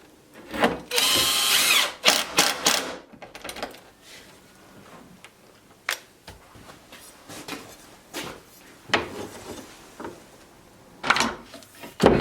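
A power drill drives screws into a wasteboard in a guitar-building workshop, with several loud bursts of whirring, the first one long, then shorter spurts, separated by quieter handling clatter.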